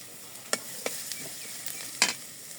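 Chopped onion frying in oil in a pan at a village kitchen, a soft steady sizzle broken by a few sharp clinks and scrapes of a spatula stirring, with no voices.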